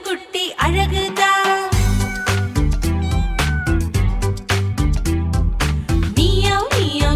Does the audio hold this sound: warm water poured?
no